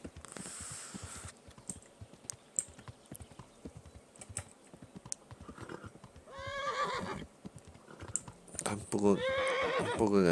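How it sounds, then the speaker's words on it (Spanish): Horse neighing and clip-clopping hooves in the medieval video game Kingdom Come Deliverance, with steady hoofbeats throughout and loud whinnies near the end, mixed with faint keyboard clicks. "Un poco cansado el caballo."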